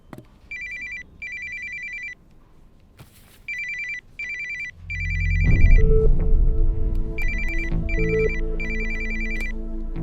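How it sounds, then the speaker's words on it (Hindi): A phone rings with a repeating electronic tone in short bursts, first over quiet, then over rising background music. "फोन बज रहा है, सुनाई नहीं दे रहा?"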